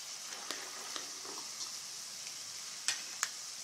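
Peanuts and roasted gram fry in a pan with a soft, continuous sizzle, broken by a few faint clicks and scrapes of stirring.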